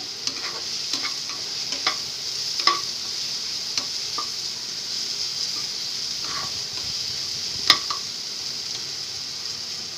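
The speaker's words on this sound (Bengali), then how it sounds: "পেঁয়াজ এবং পটলের বিচিটা যখন একদম সুন্দর মতো তেলের ভিতরে ভাজা হয়ে যাবে" Onion and pointed gourd seeds fry in oil for a mashed bharta, giving a steady, moderate sizzle with scattered small ticks and pops throughout, heard alone.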